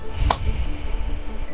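Grinding, chopping crunch of a character being shredded in a blender in the video game Guts and Glory, a short busy burst of low churning noise with a sharp snap near the start.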